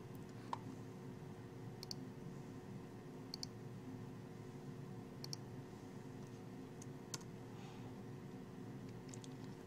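Soft, sharp mouse clicks at a steady desk, about half a dozen spaced singly over several seconds against a faint steady hum, no voices.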